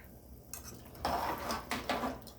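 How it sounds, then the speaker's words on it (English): Crab soup enriched with half a can of coconut milk stirred in a pot, a few close scraping sweeps and light clinks of a spoon against the pot's sides, quiet and without talk. "Let's stir."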